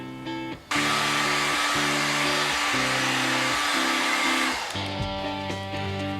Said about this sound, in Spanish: secamos muy bien entonces toda la superficie